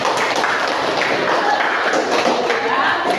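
Classroom of students clapping at the end of a mathematics lesson, a loud, busy patter of hands with scattered sharper taps and thumps, steady for the whole stretch.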